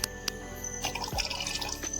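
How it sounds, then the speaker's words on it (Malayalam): Vinegar pours into a pot of water, salt and eggs, making a short liquid splash and trickle with a couple of drips, close and fairly quiet. "കുറച്ച് വിന്നാഗിരി കൂടി ഒഴിച്ചു കൊടുക്കുവാണ്"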